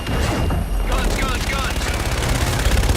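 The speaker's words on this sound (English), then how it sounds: "Roger, inbound for gun run." Sustained strafing fire from an aircraft gun run in Call of Duty Infinite Warfare, a dense, continuous roar of rapid gunfire and rumbling booms that fills the whole stretch, loud and close, with voices partly under it.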